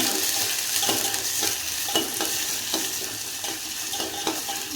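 Diced potatoes fry together in hot oil in a pan for a buttermilk ambode recipe, a steady close sizzle with regular clinks and scrapes of a spoon stirring through the whole stretch.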